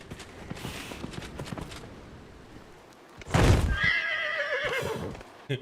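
A horse in the video game Dragon Age: Inquisition lets out a loud, shrill whinny near the end, after a stretch of quieter hoof clops and footsteps.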